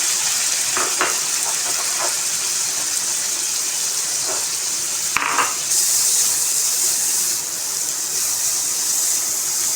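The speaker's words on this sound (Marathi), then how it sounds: "ते गरम झालं त्याच्यामध्ये कांदा टाकते" Onion dropped into hot butter and a little oil in a pan for pav bhaji, giving a steady broad sizzle throughout with a few brief crackling bursts and no talk.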